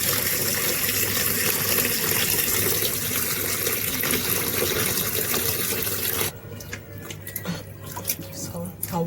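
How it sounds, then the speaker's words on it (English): Tap water gushes and splashes loudly over chicken feet being washed in vinegar water in a sink, steady for several seconds before stopping abruptly into quieter drips and handling noises. "I'm going to now wash them in some vinegar water."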